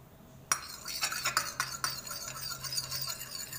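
Banana cake batter being mixed by hand in a bowl: a sharp clink opens a run of irregular scraping and tapping strokes of a utensil against the bowl, close and moderately loud, with no talk.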